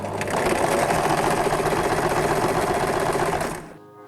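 A sewing machine stitching nightgown fabric runs in one steady, loud, close mechanical whir with fast rhythmic needle chatter, then stops abruptly near the end.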